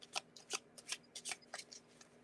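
Tarot cards are shuffled by hand in a quiet room, a quick run of a dozen or so crisp riffling flicks at close range, with no voices.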